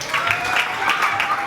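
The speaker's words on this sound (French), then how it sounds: "On applaudit très fort." An audience at a school literary and patriotic contest launch claps loudly, a dense burst of applause from a crowd nearby.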